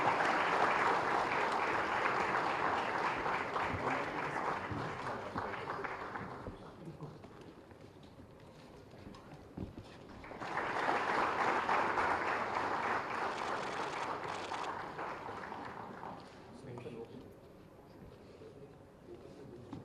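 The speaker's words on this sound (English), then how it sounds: "Can we have a big round of applause once again?" Conference audience giving a round of applause at a valedictory session in Hyderabad, two sustained bursts of clapping from a large crowd separated by a quieter stretch where some voices and a few scattered claps are heard.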